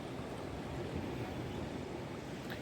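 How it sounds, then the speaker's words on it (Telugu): Waves washing back off the sand at Kundle Beach in Gokarna, a steady, soft broadband hiss of retreating water with no voices, faint and even throughout. "అలలు రానప్పుడు అది వెనక్కి నీళ్ళు వెళ్ళిపోతున్నాయి చూడు"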